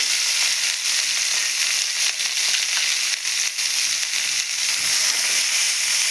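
Onions frying in hot oil for a tamarind leaf chutney, a continuous loud crackling sizzle heard close, with small pops and stirring bursts throughout and no voices.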